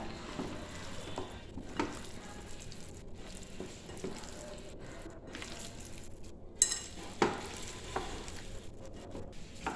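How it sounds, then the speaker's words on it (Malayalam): Chicken pieces being stirred and mixed with masala and cornflour in a bowl, a steady soft wet scraping and mixing texture with a couple of sharper clinks near the end, no talking. "എന്നിട്ട് നന്നായിട്ടൊന്ന് മിക്സ് ചെയ്യുക."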